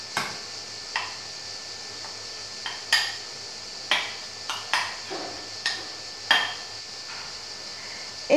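A spoon clinks against a bowl as seafood seasoned with lemon juice, salt and crushed pepper seeds is stirred, giving sparse, irregular metallic taps spaced about a second apart, close by and fairly quiet.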